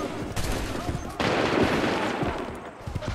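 Musket volley fire from the game Assassin's Creed 3, with a few sharp crackling bursts of gunfire spread across a battlefield under shouted commands.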